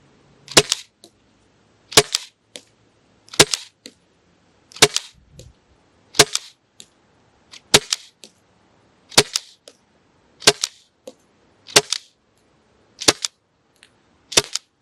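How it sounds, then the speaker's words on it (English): A T4E .68 caliber HDB paintball shotgun fires about eleven sharp, dry pops at an even pace roughly every second and a half, each crack followed by a short mechanical clatter and quiet in between. "So we can go over here and we can pull the trigger and we can shoot."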